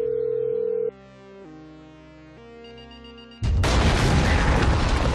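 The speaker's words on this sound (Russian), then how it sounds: "Взорвите телефон, говорю." In GTA 5, a phone's rising dialing tones lead into a sudden loud explosion that booms and rumbles on for a couple of seconds.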